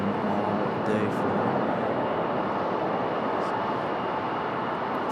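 Steady broadband jet roar from an Aeromexico airliner taxiing at Raleigh-Durham airport, a continuous engine rumble holding level throughout with faint voices in the background.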